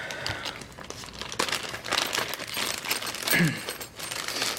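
A plastic parts bag for an Osaki Omni massage chair is pulled out and handled, giving close, busy crinkling and rustling in irregular bursts throughout.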